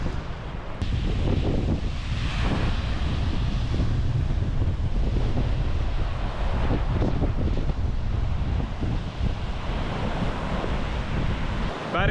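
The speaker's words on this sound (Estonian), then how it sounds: "Päris võimsad lained." Powerful sea waves crash and surge continuously on a windy open coast near Kiipsaare lighthouse on Harilaid, with heavy wind buffeting the microphone throughout and no voices.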